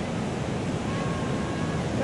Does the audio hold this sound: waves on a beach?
yes